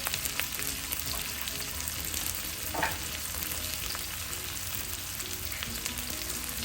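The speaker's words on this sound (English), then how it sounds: "I'm going to stir fry that in high heat until the onions become soft and translucent" Chopped white onion with salt stir-frying in a pan on high heat gives a steady close sizzle and crackle throughout, with faint scraping of stirring and a brief louder spurt midway.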